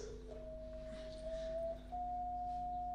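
A steady electronic tone holds at a single pitch, stepping slightly higher partway through, with a faint low hum underneath and no talking.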